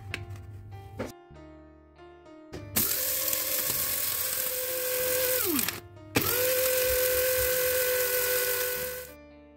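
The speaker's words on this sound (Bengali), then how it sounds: "খুব ভালো করে গ্রাইন্ড করে নেব যাতে এটা চালতে না হয়" An electric mixer grinder grinds whole garam masala spices with a little turmeric powder in two loud bursts, its motor whining steadily and then winding down between runs, with grinding rattle throughout and no talk.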